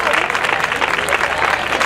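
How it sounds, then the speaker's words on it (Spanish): An audience at a choir contest semifinal breaks into strong applause, a loud, dense patter of many hands clapping close by for the whole short stretch. "Vamos a darle ese fuerte, un fuerte aplauso"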